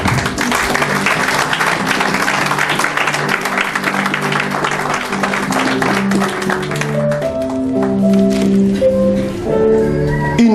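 A church congregation at a French-language service claps and cheers loudly for several seconds, a dense wash of applause that fades into music with sustained tones in the final seconds.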